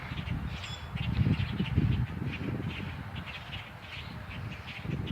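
An outdoor bird calls repeatedly in harsh, crow-like caws, coming in a regular series of fairly faint bursts over steady background noise.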